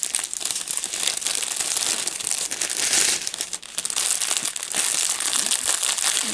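Paper crinkling loudly and continuously as an advent calendar gift is unwrapped close by, a dense rustle with only a brief dip midway and no talking.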